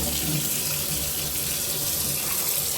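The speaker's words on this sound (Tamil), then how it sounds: "பச்சை தண்ணியை ஊற்றி அப்படியே கழுவிக்கோங்க." Tap water runs steadily into a sink while soya chunks are rinsed in a strainer in a home kitchen, a constant close splashing gush with no talk.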